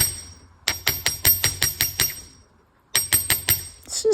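A hammer flattens a piece of scrap wire for an earring with a quick run of about nine close, sharp metallic taps. A pause follows, then another fast burst of strikes.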